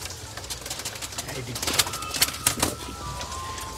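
Taddy pigeons coo faintly amid outdoor noise and scattered rustling or flapping, while people talk nearby.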